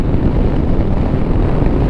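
Steady, loud wind roar buffeting the microphone of a Royal Enfield Meteor 350 cruiser motorcycle ridden at speed, a dense continuous rush with no pauses and no voices.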